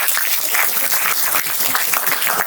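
An audience at a corporate disability-awareness month talk applauds steadily, a dense, even patter of many hands clapping throughout.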